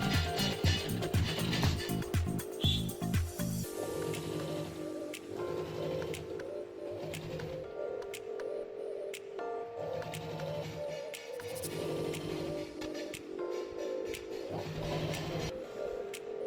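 A sewing machine stitches around the neckline of a sleeveless kurti, running in repeated short bursts of steady mechanical whirring with brief pauses between runs, close and fairly loud with no talking.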